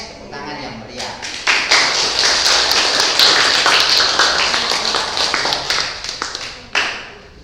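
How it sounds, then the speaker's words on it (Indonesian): Audience in a church youth Christmas service applauding, dense sustained clapping that builds quickly and holds loud and close for several seconds before tapering into a few scattered claps. "sekarang diusahakan kompak tepuk tangan untuk Mbak"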